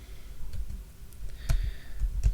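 PowerShell commands are typed on a computer keyboard as quick, close clicks and taps in an uneven rhythm, growing a little busier toward the end, with no voices.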